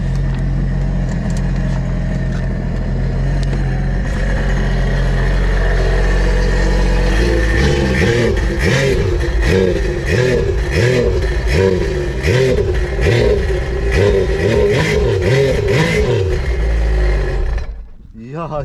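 A Sea-Doo jet ski engine runs close and loud, settling from a steady idle into repeated rhythmic revs in the second half before cutting off near the end, with people talking over it.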